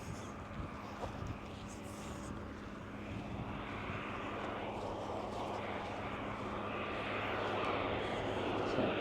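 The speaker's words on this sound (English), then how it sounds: "There's another plane landing." A steady, rumbling jet engine roar from a plane landing at a distance near East Boston's Belle Isle Marsh, slowly growing louder, with wind and faint outdoor background noise.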